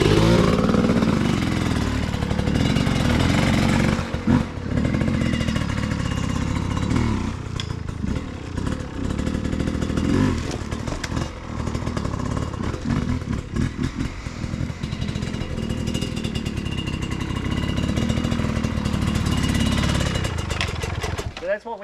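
A loud, nearby off-road motorcycle builds revs and rides up and over a log on a trail, its engine snarling and rasping continuously for the whole stretch. The clutch is dumped and the front lifts, with clattering as the bike crosses.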